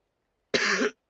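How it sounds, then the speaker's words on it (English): A single short, sharp cough bursts out close to the microphone after near silence, lasting under half a second. "I still do have a cough"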